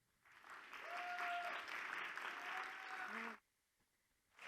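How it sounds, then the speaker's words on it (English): An audience at an annual corporate inclusion symposium gives a warm round of applause that swells for about three seconds amid a few voices, then cuts off abruptly into quiet. "Now, please offer a warm round of applause to HACR President and CEO, Sid Wilson."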